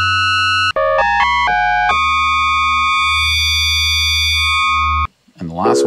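A Roland System-8 synthesizer oscillator sounds a bright, high-pitched tone, first stepping through a quick run of short notes and then holding one long steady note, loud and electronic; a brief voice follows at the end.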